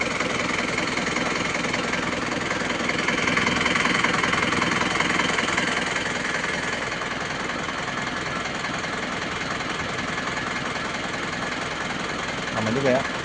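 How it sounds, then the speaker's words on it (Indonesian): A 2002 Isuzu Panther Touring diesel engine idles steadily after the ignition is switched off with a turbo timer fitted, a loud continuous rough drone with a faint knocking texture, and a voice briefly near the end. "Mesinnya masih hidup."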